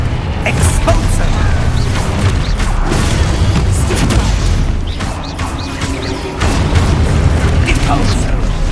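Hogwarts Legacy spell combat with Confringo and Expulso explosions: loud repeated blasts, crashes and mechanical clatter in quick succession, with a player shouting spell names over the din.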